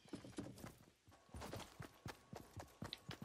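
Game footsteps, loud and quick, a run of sharp clopping steps in an uneven rhythm that sound almost like hooves, close and alone with no talk.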